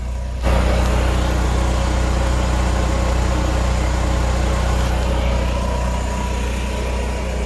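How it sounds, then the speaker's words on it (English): An RV generator starts up and runs at a steady, droning idle, constant and fairly loud, with no voices. "we're running the generator now"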